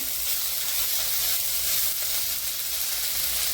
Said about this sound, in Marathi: आता चांगलं भाजून घ्यायचं